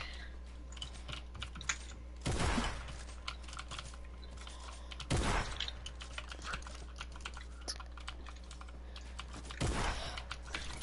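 A new computer keyboard clacks in steady bursts of rapid typing during a game, near and moderately loud, with a few heavier thumps at intervals.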